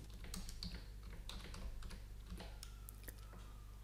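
Quiet, steady typing on a computer keyboard: a string of light, irregular key clicks against a soft background hum, with no talking.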